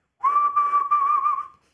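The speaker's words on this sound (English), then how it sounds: "which is called the pucker whistle." A pucker whistle made with rounded, pushed-forward lips gives a clear, close tone held for about a second and a half, broken into four short connected pulses with a slight upward bend.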